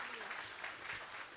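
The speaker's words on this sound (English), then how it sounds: "We want to give another final round of applause for Catherine Austin Fitz." A meeting audience claps together, steady dense applause that stays even in level for the whole moment, heard from a distance and fairly quiet.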